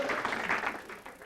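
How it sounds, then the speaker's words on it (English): An audience claps in brief, faint applause for Bruce Thompson's team, a soft, dense patter that fades slightly by the end. "Let's have a round of applause for Bruce Thompson's team."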